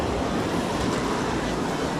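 A waterfall at a fishing spot gives a steady, dense rushing roar that fills the whole stretch without pause, close and fairly loud.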